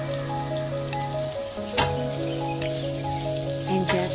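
Garlic frying in a pan alongside beef, a steady close sizzle and crackle running throughout beneath a sustained background tone, with a couple of brief clatters from stirring.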